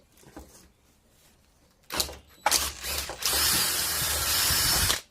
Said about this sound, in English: I'm just going to take my drill and drill a hole through